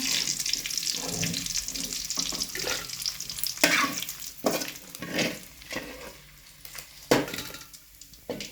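Dry fish sizzling and frying in a pan while being stirred, with scraping spoon strokes over a steady hiss and occasional sharper clatters; no talking.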